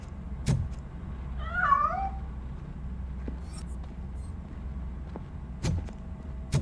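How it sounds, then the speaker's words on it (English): A cat in the video game Robocop Rogue City gives a short, wavering meow in the middle of ambient game sound, with a few sharp clicks and thuds around it as it escapes. "That cat must be hiding inside."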